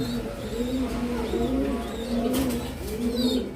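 Silky pigeons in a cage give repeated low, rolling coos in a steady rhythm, close and clear over a faint background hum.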